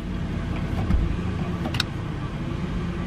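A 2008 Ford Explorer engine idles steadily at a salvage yard as the transmission is shifted into reverse, a low continuous rumble with a faint clunk and brief rise near the start of the shift.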